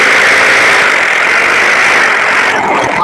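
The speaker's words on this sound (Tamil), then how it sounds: "அதனால இது ஒரு 1500 வாட்ஸ் ட்ரில்லிங் மிஷின்." A 1500-watt electric drilling machine running steadily, a loud continuous motor whine and hum that stays even throughout, close up with no talking.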